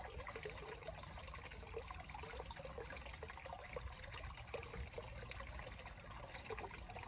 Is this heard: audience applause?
no